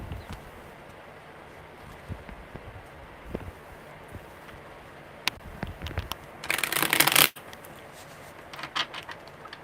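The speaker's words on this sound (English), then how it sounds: "one more good shuffle" Tarot cards shuffled by hand during a live reading, a soft papery riffle with scattered light taps that builds into a dense burst of shuffling near the end.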